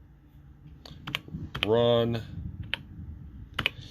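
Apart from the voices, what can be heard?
typing on TRS-80 Model 100 computer keyboard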